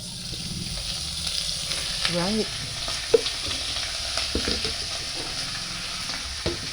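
Chicken frying in a casserole pot gives a steady close sizzle with occasional pops and stirring clatter, and a voice speaks briefly over it.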